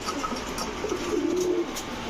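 Racing pigeons coo softly and steadily under a hissy background, a low rolling murmur rising slightly in the middle of the stretch.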